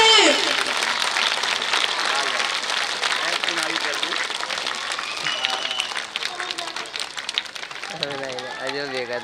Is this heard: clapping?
yes